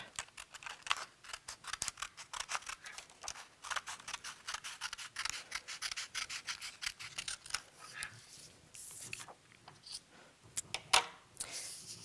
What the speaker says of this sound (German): Mit einer Schere schneidet ihr nun das, was hier übersteht, von dem Dreieck einfach ab.